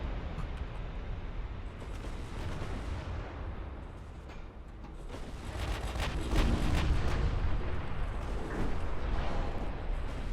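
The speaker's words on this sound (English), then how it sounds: "We're going to take some torpedo hits." Torpedoes strike a battleship in the naval warfare game Ultimate Admiral: Dreadnoughts: a continuous, heavy rumbling barrage of booming blasts and gunfire that swells louder in the second half.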